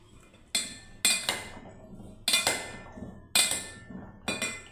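Spoon or utensil clinking against a bowl while a chickpea fruit salad with pomegranate seeds is mixed, several sharp scraping knocks in irregular bursts, close and clear with no talk.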